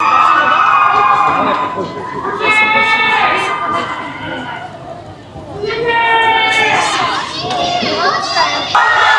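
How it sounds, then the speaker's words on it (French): Outside a Paris Fashion Week 2026 show, a large crowd of fans awaiting BTS member V screams in loud, shrill waves that rise and fall. A person speaks nearby. "Ça y est, ça crie et je peux vous dire que ça va pas diminuer en intensité"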